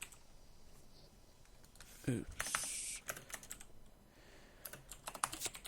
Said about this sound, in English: let's first type in the first task